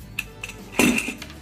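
Small metal retaining screws for a 52 inch Brookhurst ceiling fan being handled, giving a few light, close metallic clinks and taps, one slightly louder than the others.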